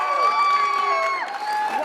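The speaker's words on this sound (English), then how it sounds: "Such a loud crowd for you." Loud crowd cheering and shouting at an arm wrestling event, a dense, sustained roar of many voices with whoops rising over it throughout.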